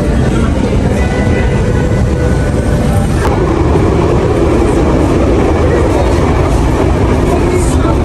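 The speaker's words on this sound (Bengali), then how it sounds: "আমাদের ট্রেন চলে আসছে।" A train pulls into a station in Italy with a loud, continuous rumble and rattle of wheels and carriages that holds steady for the whole stretch.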